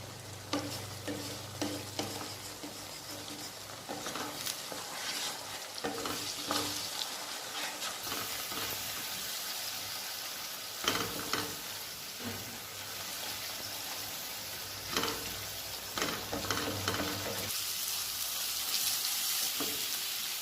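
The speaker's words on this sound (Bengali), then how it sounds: "এবার আমি মশলাটাকে কষাবো" Spice paste sizzles and fries steadily in a pan as masala for chicken kofta curry is sautéed, with repeated scraping stirs and bursts of hissing throughout, close and fairly loud, with no voices.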